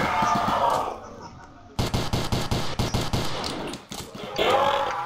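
Rapid pistol gunfire in the Roblox zombie-survival game Resurrection: a quick run of about a dozen sharp, evenly spaced shots in the middle, loud and close, with game noise before and after.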